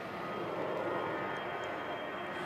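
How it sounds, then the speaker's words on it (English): A passenger airplane passes over the caravan campsite in Düsseldorf, a steady broadband engine roar heard from a distance and holding at an even level without any voices. "this is what, the fourth plane?"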